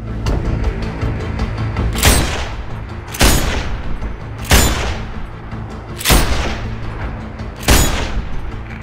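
Sniper rifle shots in the video game Sniper Ghost Warrior, five loud sharp cracks about a second apart, each with a booming tail over a steady low background rumble, no talking.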